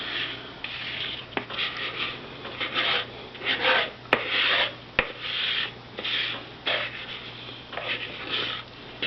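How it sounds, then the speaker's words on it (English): A spatula scrapes brownie mix from a mixing bowl in soft, repeated rubbing strokes, close and fairly quiet, with a couple of sharp clicks. "this is when I like to switch to my spatula. It scrapes all the brownie mix out."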